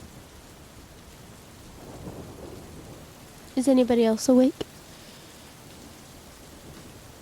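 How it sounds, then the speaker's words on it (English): Soft, even rain falls steadily in the background while a voice briefly speaks over it partway through. "but it sounds like it's still raining."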